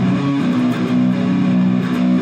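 Two guitars play a part in open triplets, with a steady run of sustained notes changing pitch, close and clear without voices.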